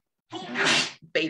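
A short, sharp sneeze from a dog, close and loud, followed by a brief voice.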